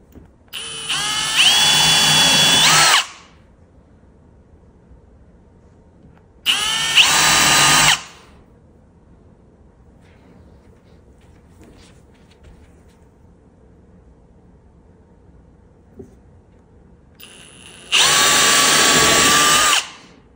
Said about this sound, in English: pre-drill the holes for the screws so they go in better